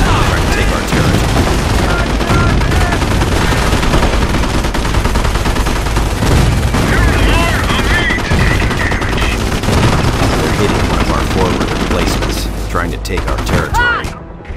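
Gunfire crackles through a Company of Heroes battle at Montebourg as dense, continuous machine-gun and rifle fire with booming hits, loud and close, with battle chatter mixed in.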